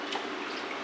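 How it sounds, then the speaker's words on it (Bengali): Water being poured into dal, a brief steady splashing stream of liquid, fairly close and continuous. "জল দেবো।"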